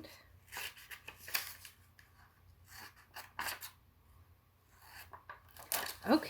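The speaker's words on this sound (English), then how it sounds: "So you just cut along that square to make some flaps." Scissors cutting paper flaps along a square for a pop-up alphabet house craft, heard as several short crisp snipping and rustling bursts spread irregularly, close and moderately quiet, with no talking.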